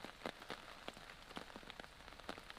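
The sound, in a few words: rain falling outdoors at a fishing pond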